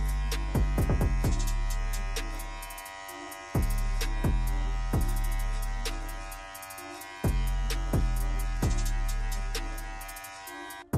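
A Cut Buddy hair clipper runs with a steady loud electric hum during a self-haircut, its motor note repeatedly dipping and surging as it flicks upward through the hair, with no talking.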